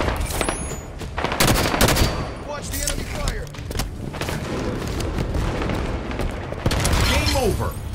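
Enemy fire in a Halo 5 big team battle crackles as repeated bursts of automatic gunfire and booms, dense and continuous, mixed with game effects and some voice chatter.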